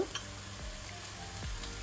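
Onion and ginger fry in a pan, giving a low, even sizzle close by, with a couple of soft stirring scrapes.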